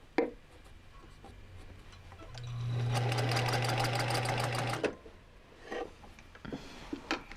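A sewing machine runs in one steady burst of rapid stitching along a seam as it wraps around, starting after a brief pause and stopping abruptly, close and loud, with soft handling noises before and after.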